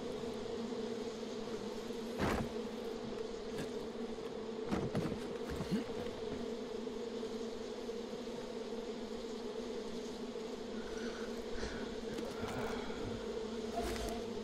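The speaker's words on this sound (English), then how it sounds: "It sounds like bees. It sounds like a lot of bees." A swarm of bees drones steadily in the Far Cry 5 video game, a continuous low buzzing hum throughout with occasional faint clicks and bumps.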